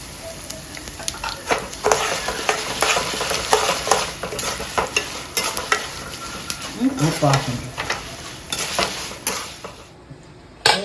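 Mustard and asafoetida tempered in sesame oil are stirred into cooled, salted rice for sesame rice, with a steady sizzle under repeated scraping and clinking of a spoon against the pan, close and fairly loud throughout.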